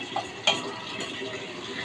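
Soaked soy chunks (meal maker) are stirred into masala frying in a pan: a soft sizzle runs throughout, broken by a couple of sharp spoon-on-pan clinks near the start.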